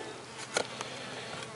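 Mason bees buzzing around nest tunnels, a faint, steady insect drone with one brief louder pass as a bee flies close, then fading back to a low hum.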